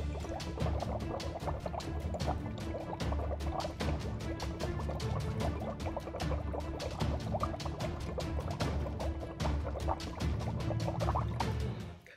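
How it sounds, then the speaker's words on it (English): A person blows hard through a drinking straw into a container of water, making a continuous, close, busy bubbling and gurgling that runs steadily for about twelve seconds with no talk over it. "take a big breath and blow through the straw into the water"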